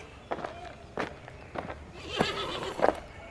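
A horse whinnies and snorts in short bursts, fairly close, with hoof sounds mixed in.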